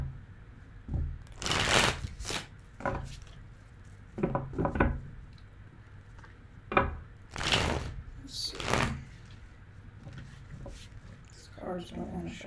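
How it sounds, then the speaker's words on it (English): Tarot cards are shuffled by hand in repeated bursts of crisp riffling and slapping, separated by short pauses, with a person talking quietly between the shuffles. "So let me finish shuffling."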